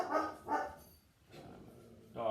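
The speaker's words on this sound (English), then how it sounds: "Dog is barking." A dog barks indoors, two sharp barks close together at the start, a softer pause, then another bark at the end; moderately loud and fairly near, with no talk over it.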